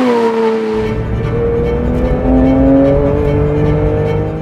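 A Porsche 992 GT3 at speed on a track, engine note loud and close, pitch gliding through gear changes with strong harmonic tones over road and wind roar.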